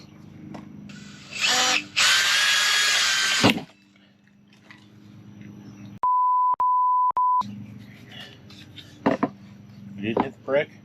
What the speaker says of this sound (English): So I'm going to drill the big one first.